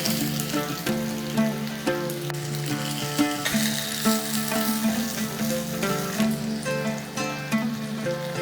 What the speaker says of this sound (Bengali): মাছটা আমি আরো 2 মিনিটের মতন ভেজে নিয়েছি।